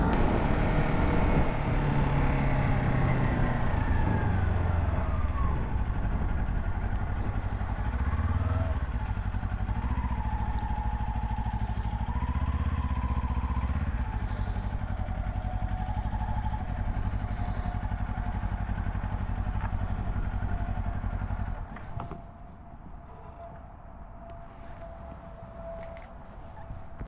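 A Kawasaki Ninja 400 motorcycle engine drones steadily while riding through a turn in third gear, its pitch rising and falling with throttle under wind noise, before the engine note drops away toward the end.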